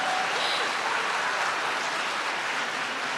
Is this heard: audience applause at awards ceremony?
yes